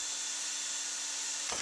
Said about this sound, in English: Using my hand drill, I had to step up from the 9/16 to a 13/64